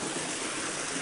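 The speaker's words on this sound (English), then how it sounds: "Yeah, there's the waterfall." A creek waterfall flowing outdoors, a dense broadband rush of water heard steadily and fairly loud throughout, with no voices.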